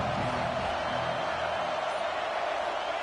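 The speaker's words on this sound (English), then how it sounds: "This crowd ready to make its presence known." A football stadium crowd sends up a continuous, dense roar for a few seconds, with no distinct voices standing out.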